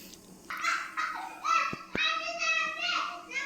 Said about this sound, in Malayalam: അപ്പുറത്ത് കുട്ടികളെ സൗണ്ടാട്ടോ, കളിക്കുന്ന സൗണ്ടാണ്